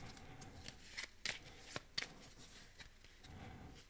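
Tarot cards shuffled and drawn, faint close riffling and flicking with several sharp card snaps in a quiet room.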